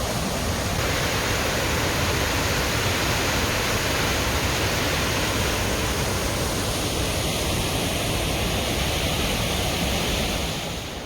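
A waterfall in the Swiss Alps roars as a dense, steady rush of falling water, loud and continuous from start to finish, with no voices.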